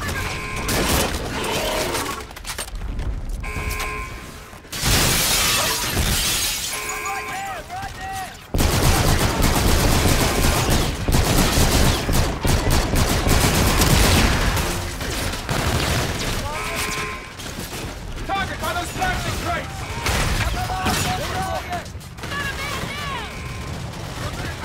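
Heavy gunfire from Call of Duty: Infinite Warfare, with sustained bursts and booming volleys that run loud and dense through a busy battle mix, under radio chatter and voices.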